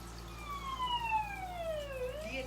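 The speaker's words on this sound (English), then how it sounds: "The incessant wailing of ambulance sirens." An ambulance siren wails in one long falling sweep, then begins to rise again, fairly distant over a steady low background hum in a city during a Delta variant wave.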